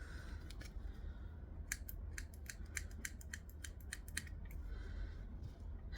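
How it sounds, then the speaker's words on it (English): Blunt fabric scissors chop through cloth for a sewing project in a quiet room. They make a rapid string of crisp snips in irregular bursts, close and fairly faint, with no talking. "My scissors are blunt."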